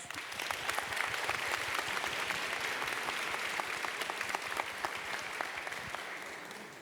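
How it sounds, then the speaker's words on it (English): Steady audience applause fills a student awards night for the Bearcat community, a dense sustained clapping that holds level for the whole stretch before easing slightly at the end. "Please give yourselves a round of applause."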